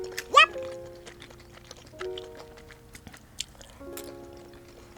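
Someone bites and chews kimchi pancake at a birthday meal with tteokbokki and assorted jeon, giving a few close, soft crunchy bites and mouth sounds in a quiet room.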